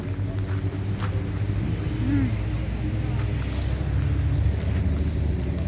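Busy Friday road traffic on a Middle Eastern street, a steady rumble of cars moving past nearby with occasional higher tones. A person talks over the traffic noise throughout.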